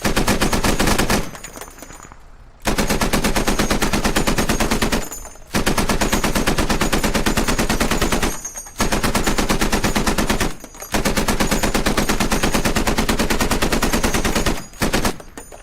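A Warthog vehicle's machine gun in the Halo mod for the video game Squad fires in loud, dense sustained bursts, several long volleys separated by brief pauses, with no talking.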